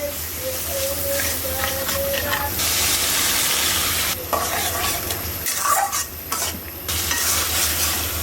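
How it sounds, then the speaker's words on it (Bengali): A spice paste of browned onion, garlic paste, turmeric, coriander, cumin and salt fries and is stirred in a pan, giving a loud steady sizzle with scraping stir strokes throughout. "পেঁয়াজটা বাদামি হয়ে আসলে এই যে লবণ রসুন বাটা হলুদ ধনিয়া জিরা দিয়ে মশলাটা কষাই নিই"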